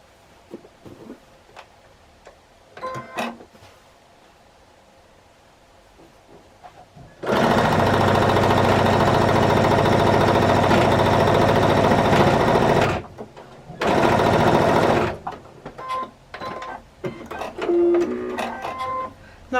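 Sewing machine stitching patchwork blocks together for a jelly roll quilted tote bag, running as one loud continuous whir for several seconds, pausing briefly, then a shorter second burst, with quiet handling clicks before and after.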